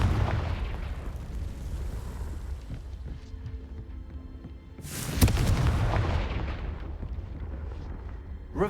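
A Confringo fire spell explosion in a Hogwarts wizarding video game, a rumbling burst landing mid-clip over a continuous layer of game noise and ambience.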